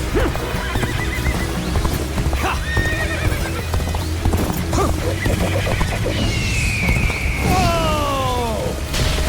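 A horse gallops with rapid clip-clop hoofbeats in the Dynasty Warriors: Origins video game, joined by loud neighs and whinnies and battle crashes in a dense, busy game mix.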